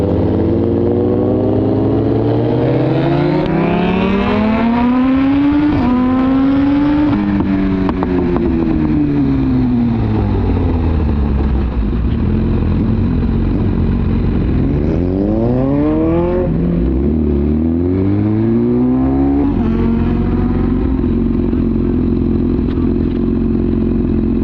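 A 1000R superbike on a race track, its engine screaming up through the revs and shifting gears in repeated rising sweeps, with dips as it decelerates, loud and continuous close to the rider.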